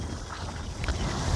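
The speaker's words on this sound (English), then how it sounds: "It's still breezy and windy, so I did put the mic on." Outdoor breeze buffets a clothing-covered microphone, producing a low, steady rumble of wind noise that swells slightly toward the end, with no voices.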